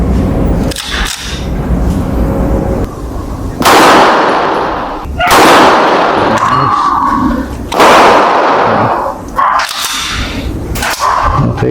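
A .45 caliber 1911 pistol fires several loud, sharp shots at a steel target on a 25-meter range, irregularly spaced, each a close, cracking blast with a ringing tail, with no talk.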